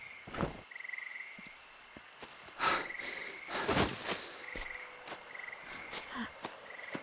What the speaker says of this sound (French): il y a des grenouilles ici